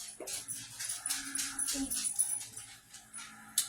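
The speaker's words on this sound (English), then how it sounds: "You mind tossing the dog out?" Indoors during home cake baking and dinner cooking, a dog whimpers and whines in soft, repeated high whines at close range, with kitchen clatter and a faint murmur of voices in the background.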